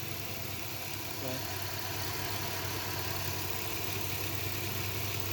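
A car engine idles steadily while its cooling system still holds a little water, a constant low hum running throughout, with a person speaking over it briefly.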